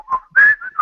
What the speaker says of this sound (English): Why would you ever whistle into a microphone?